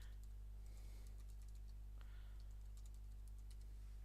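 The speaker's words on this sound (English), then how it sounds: "and then type in your keyword" Fingers type on a computer keyboard in quick, faint key taps against a heavy low hum, with several small bursts of clicking spread across a few seconds.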